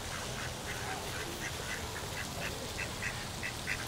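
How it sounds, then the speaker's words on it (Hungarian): Ducks in a large park quack in a steady series of short, moderately faint calls over a constant background hiss, with no talking. "Ne etesd a kacsákat."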